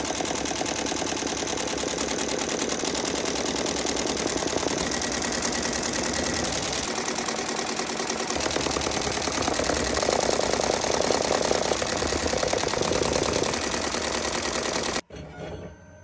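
A Smartstitch 1501 embroidery machine steadily stitches an unstructured dad hat held in a HoopTech Gen 2 hoop, its rapid mechanical needle chatter running continuously up close before stopping abruptly at the end.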